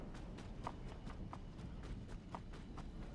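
Enemy footsteps close by in Apex Legends, a quiet, steady run of soft, evenly spaced thuds over low background noise, with no talking.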